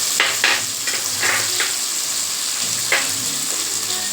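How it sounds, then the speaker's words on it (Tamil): Onions sauté steadily in a hot pan for chicken curry, with a few scraping stirs of a utensil punctuating the constant frying hiss. "ரெண்டு நிமிஷம் அப்படியே நல்லா வதக்குங்க"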